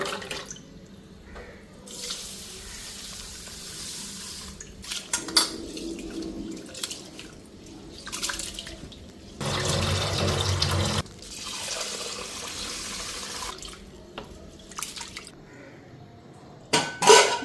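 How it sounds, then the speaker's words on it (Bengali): A tap runs in several bursts while rice is swished and rinsed in a metal pot, with clinks of metal between the flows of water. "আর এদিকে চাল নিলাম, চালটা এখন ধুইয়া নিই।"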